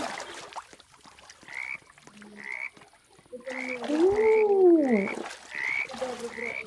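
Frogs croak in the 99 Nights in the Forest video game, a chorus of short repeated calls in a steady rhythm, with a louder warbling sweep of game sound in the middle, fairly close with no talking.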